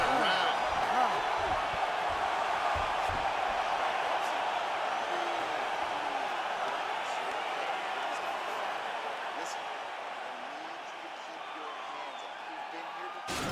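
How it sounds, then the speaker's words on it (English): Crowd applauding and cheering in the EA Sports UFC 4 video game after a round in a fight, a steady wash of distant arena noise that fades slightly toward the end. "So the crowd voicing its appreciation after that round."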